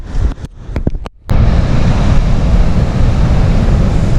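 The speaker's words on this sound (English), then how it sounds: "look at those breakers. They are really strong." Strong waves breaking on Sandsend beach on the Yorkshire coast after rough winter storms, a loud continuous roar of surf with wind buffeting the microphone, preceded by a few brief knocks.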